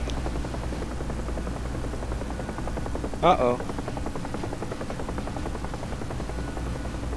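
A Huey helicopter in a video game makes a steady rotor thrum and engine drone that runs throughout, with a brief voice cutting in near the middle.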